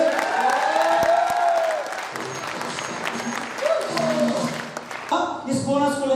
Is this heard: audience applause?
yes